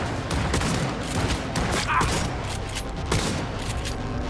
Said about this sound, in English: I'm just going to shoot my way through